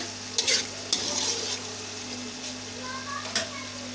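Spices for chicken biryani frying in a pan, a steady close sizzle with a few sharp stirring scrapes against the pot over a low hum.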